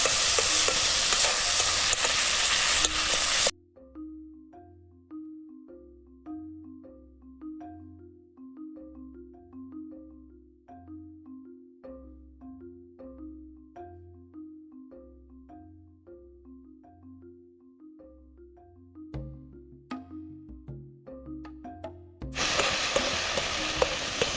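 Gravy frying and sizzling in a kitchen pan: loud, hissing sizzle for a few seconds at the start and again at the end, with a stretch of soft, rhythmic background music between.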